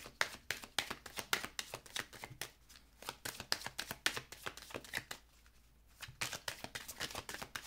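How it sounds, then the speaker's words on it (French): Tarot cards being drawn and handled close up, rapid repeated flicking and slapping of cards in bursts with a brief pause, faintly recorded and without speech. "Je vais prendre encore une carte."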